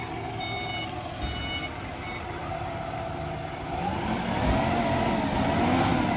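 A Hangcha forklift's diesel engine idles steadily at close range, a low continuous rumble that grows slightly louder and rougher in the last couple of seconds, with faint reversing-beep style tones early on.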